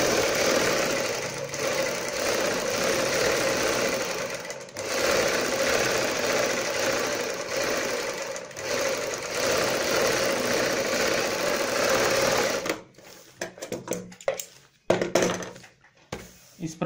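A sewing machine stitching a strip onto a kurti sleeve, a fast steady whirring hum running close for about twelve seconds, then stopping, followed by scattered handling clicks and thumps.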